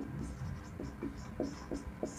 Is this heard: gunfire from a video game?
no